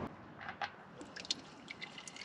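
Transmission fluid and water draining from an Oliver OC-3 tractor fitted with a Nissan diesel swap, a faint trickle with scattered close drips and splats and no talking.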